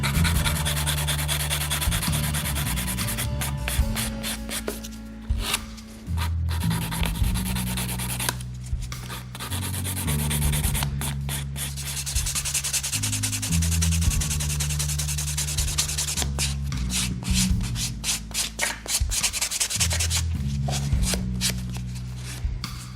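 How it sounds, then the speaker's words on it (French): A nail file rubbing back and forth across the surface of a nail during a nail art session, with steady close rasping strokes that run almost continuously, broken by a few brief pauses. "on vient limer pour enlever toutes les imperfections qui se trouvent sur la surface"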